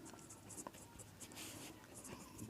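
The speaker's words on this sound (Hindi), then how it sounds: "तो सबसे पहले ऐसे लिखेंगे" A pen or pencil writes on paper during a class 10 maths lesson. The scratching is soft and close, made of short strokes in steady bursts, with faint talk in the background.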